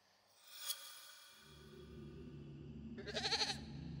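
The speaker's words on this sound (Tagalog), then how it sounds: "nakarinig siya ng impit na pag-ungol ng kambing" A goat gives a muffled bleat at night, one quiet cry rising early and a second louder, brighter bleat near the end over a low rumbling background, alone without talk.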